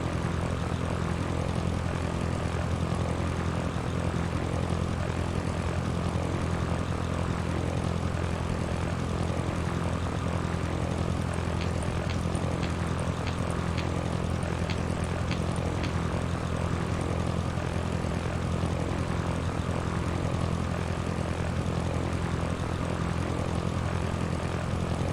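A propeller plane engine drones in the flight game Sierra Pro Pilot, a loud, constant, even hum that holds steady throughout with no talking over it.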